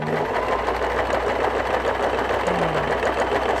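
A sewing machine runs steadily, stitching a tiny fine rolled hem along the side seam of a dress or circular skirt, its even mechanical whirr close and constant throughout with no talk.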